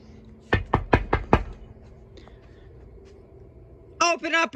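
Five sharp knocks strike a door in quick succession at close range, followed by a pause and then someone speaking loudly.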